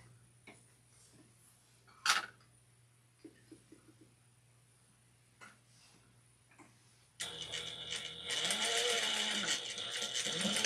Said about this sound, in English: We're going to sew this down.